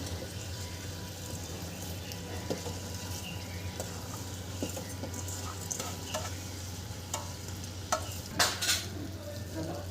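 Dal and rice being stirred into spice-coated vegetables in a pan for veg dal khichdi, a steady low sizzle with scattered scrapes and clinks of a spoon on metal, close by.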